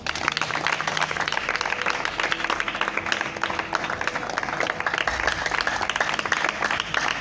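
A church audience at a religious broadcast bursts into sustained applause, dense and steady clapping filling the room for several seconds with faint crowd noise underneath.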